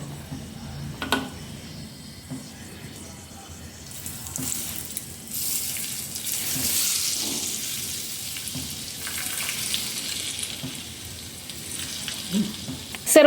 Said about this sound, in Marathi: आंब्या चटणीला फोडणी देऊया आता.